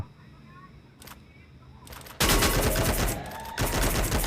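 Gunfire rattles in Free Fire, with a couple of isolated shots early, then a loud, dense burst of rapid automatic fire from about two seconds that continues to the end with a brief break.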